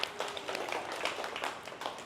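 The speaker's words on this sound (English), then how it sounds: "Give yourself a round of applause" Faint, scattered clapping from a small group of participants at an Olympic weightlifting workshop in a CrossFit gym, a brief patter of hands at a distance.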